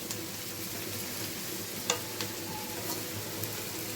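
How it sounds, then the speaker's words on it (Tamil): Mint and coriander sauté in a pan for chutney, giving a steady, soft frying sizzle with a couple of faint clinks of stirring, and no voices. "ஒரு 5 நிமிஷம் போட்டு புதினா கொத்தமல்லி போட்டு ஒரு 5 நிமிஷம் வதக்கணும்"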